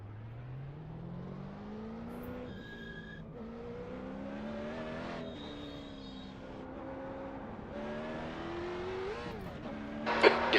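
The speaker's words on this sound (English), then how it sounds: "let's get the car out there, get those cold tires going, warm them up, and then hope for the best" A Late Model Stock race car in a racing game pulls out onto the Nordschleife on cold tires, its engine note climbing steadily through the gears, with brief tire squeal and a loud burst near the end.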